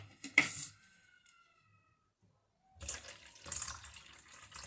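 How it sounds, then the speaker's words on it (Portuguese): Filtered water is poured into sourdough bread dough made with seeds and dates. A short splash is followed by a pause, then a longer stretch of trickling and sloshing close by. "E vou acrescentar também aqui um pouco mais de água filtrada."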